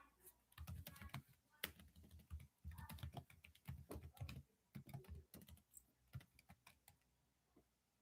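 Quiet, uneven bursts of clicking keystrokes on a computer keyboard, typed in quick runs with short pauses, close and alone.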